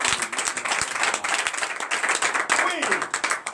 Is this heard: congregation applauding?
yes